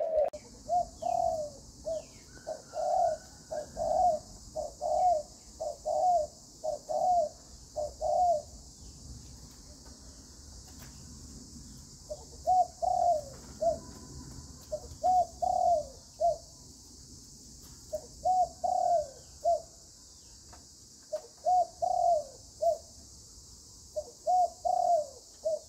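Malaysian coo doves, a breeding pair of red-patterned birds, coo in repeated rhythmic bursts, several short phrases in a row, a pause, then more cooing, moderately close over a steady background hum.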